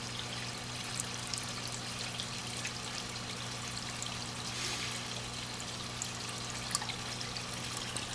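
Water from an aquarium overflow, a CPR CS102 with a DIY Herbie conversion, drains in a steady, quiet trickle with a low hum beneath, heard up close and alone without talk.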